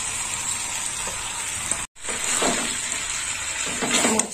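Green jackfruit and fried prawns are stir-fried together in a pan, giving a loud close hissing sizzle with stirring scrapes, broken by a brief drop-out before swelling again.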